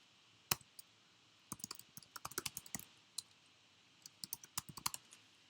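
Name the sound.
retyping on a computer keyboard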